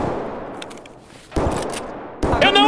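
Gunfire in the video game Escape from Tarkov: sharp bursts of shots come in separate volleys, loud and close, with a muffled rumbling stretch between them.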